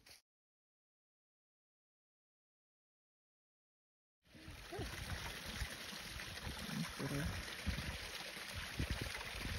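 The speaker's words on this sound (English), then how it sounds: "Brook running down." A brook runs down beside a muddy forest road near the Sugarloaf summits in Wellington State Forest, New Hampshire; after a few seconds of silence, a steady close rush of flowing water fills the rest of the clip.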